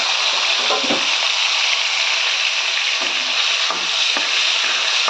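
Vegetable pieces frying in a pan of hot oil give a loud, dense, continuous sizzle close up, with occasional soft bubbling pops and stirring clicks.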